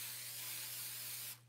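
A spray bottle mists pesto bread dough during sourdough baking, a steady close hiss running about a second and a half before cutting off.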